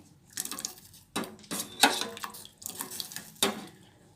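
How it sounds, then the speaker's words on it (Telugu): Curdled milk for a sweet is poured through a kitchen strainer to drain off the whey, giving close, intermittent splashing with clinks and scrapes of metal in several short bursts. "దీన్ని అయితే ఇప్పుడు స్ట్రైనర్ తోటి స్ట్రెయిన్ చేసుకుందాం"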